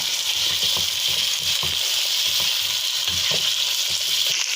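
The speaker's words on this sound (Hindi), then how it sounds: "तो अच्छे से फ्राई करेंगे" Goat or mutton pieces sizzle in hot oil with ginger-garlic paste for a chicken pulao, a loud, steady hiss running throughout with soft stirring knocks recurring underneath.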